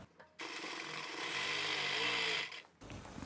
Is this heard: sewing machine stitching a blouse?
yes